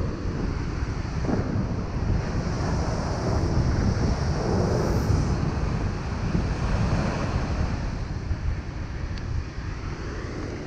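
Loud Pacific Ocean surf breaks on a lonely beach, a steady, full roar of crashing and washing waves with heavy wind buffeting the microphone throughout, close and continuous with no voices.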